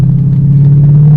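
A car's engine hums steadily while driving gently during its first-drive engine break-in, a loud, constant low drone with light road rumble and no voices.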